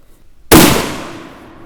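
A single loud shot from a Swiss K31 rifle in 7.5x55 cracks out after a moment of quiet, then a long echo trails off outdoors.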